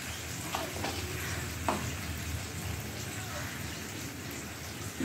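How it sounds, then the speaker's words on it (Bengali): Hilsa fish curry stirred in a pan over a low flame, a faint continuous sizzle with a couple of light utensil scrapes, fairly quiet throughout. "নেড়ে দিলাম।"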